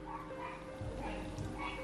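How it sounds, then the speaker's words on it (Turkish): Dog barking outside at night, a few short faint barks and yips, distant and low under a steady background. "dışarıdan da köpek sesleri geliyor"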